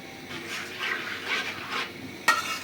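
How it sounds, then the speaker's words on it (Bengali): Ginger-garlic paste and spices being stirred and fried in a pan for a village-style rita fish bhuna, with soft scraping strokes, a low sizzle and one sharp clink of a utensil near the end. "এখন মশলাটা ভালোভাবে কষে নিব"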